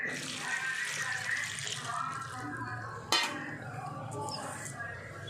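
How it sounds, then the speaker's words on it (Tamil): Water pours steadily into a container, splashing and gurgling, with a sharp clink of a dish partway through. "1 லிட்டர் தண்ணி ஊற்றிக்கிறோம்."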